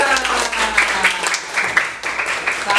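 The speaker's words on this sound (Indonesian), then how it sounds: "Tepuk tangan untuk Aura." Classroom applause for a student during a lesson, a short burst of clapping from pupils with voices mingled in, loud and close.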